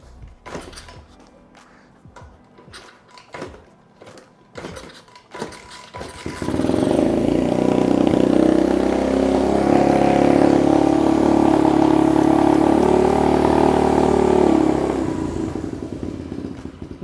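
A 125cc X Pro dirt bike engine starts after a few scattered knocks and clanks, then runs loud and steady at a fast idle for about eight seconds before easing off slightly near the end.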